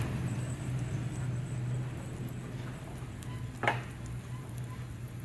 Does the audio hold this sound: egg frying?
yes